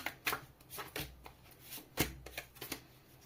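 Tarot cards being shuffled by hand make a run of crisp, rapid riffling bursts and soft slaps, with a few sharper snaps, close and fairly quiet with no talking.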